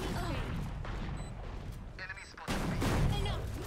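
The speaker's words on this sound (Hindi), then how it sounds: "शॉटगन बहुत तेज है।" Heavy shotgun blasts in Valorant thump amid dense, noisy gameplay sound, with a louder burst near the end.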